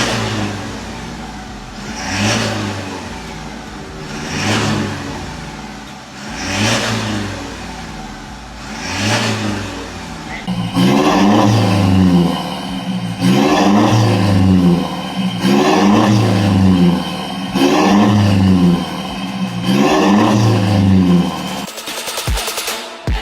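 A Toyota Hilux fitted with a full exhaust, a Spitfire Thunder muffler and dual Spitfire tips revs repeatedly. About ten loud, rhythmic throttle blips swell and fall off, growing stronger midway, with no voices.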